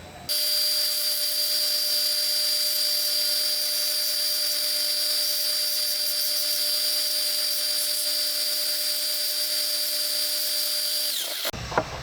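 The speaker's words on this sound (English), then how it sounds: "I have been sanding these on the belt sander and hand sanding them" A steady, loud belt sander whine with a constant high tone runs continuously for about eleven seconds while sanding wooden rings, then cuts off abruptly.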